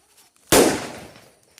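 A single sharp firecracker bang at a country bonfire rings out close and loud, then fades in a crackling decay over about a second.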